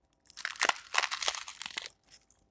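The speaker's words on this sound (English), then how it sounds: "Did you hear that crunch?" A bite into a crunchy bacon taco shell produces a quick burst of loud, close crackling crunches over about a second and a half, trailing off into a faint last crackle, with no talk.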